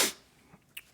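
A single sharp sneeze bursts out close and loud, followed by quiet breathy rustles.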